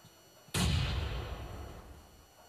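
A mini grenade launcher fires in PUBG Mobile: one abrupt, heavy boom halfway through, followed by a long, rumbling decay that fades slowly.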